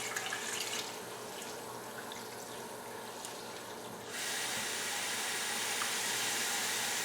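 Water poured onto a house plant, a steady splashing hiss that changes character partway through as the stream continues, close and alone.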